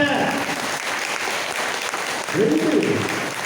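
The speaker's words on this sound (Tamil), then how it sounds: "சந்தேகம் இல்லாமல் இருப்பவர்கள் கைதட்டுங்க" Worshippers clap together at a full-moon night gathering at a Catholic shrine on a hill, a sustained, dense round of applause with a voice and some crowd noise faintly mixed in.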